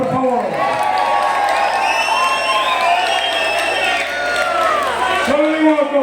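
A crowd cheers and applauds at the Santa Eufemia village festival in Sigüeiro, with shouts, whistles and clapping blending into a loud, steady roar alongside music.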